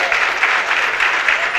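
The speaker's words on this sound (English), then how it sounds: "Please give them a round of applause." An audience claps for parents receiving leadership certificates at a graduation ceremony, a steady continuous round of applause, moderately loud and close throughout.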